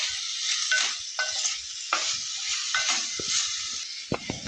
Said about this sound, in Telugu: అవి వేగిన తర్వాత క్యాబేజీని బంగాళదుంప ముక్కలు వేసేసుకోవాలి వేసేసుకున్నాక ఇవన్నీ బాగా కలుపుకోవాలి